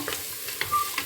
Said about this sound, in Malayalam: കുറച്ച് തക്കാളി ചേർത്ത് എല്ലാതും നല്ലോണം മിക്സ് ചെയ്യുക